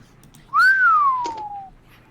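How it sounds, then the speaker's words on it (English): One person lets out a single long whistle that swoops up sharply, then slides slowly downward for about a second, clear and close against near silence. "I don't know how well the whistles came through"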